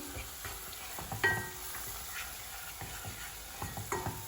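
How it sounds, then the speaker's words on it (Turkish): Flour is roasted in a little butter in a pan and stirred under a steady faint sizzle, with intermittent scraping and tapping strokes of the spoon against the pan. "Unumuzun kokusu çıkana kadar arkadaşlar. Güzelce kavralım."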